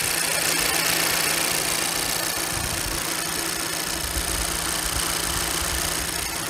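Mercedes-Benz Citan 113 Tourer from 2022 with a 1.3-litre 131 hp petrol engine, heard close up as it idles with a steady, fairly quiet hum and light mechanical ticking, with no talking.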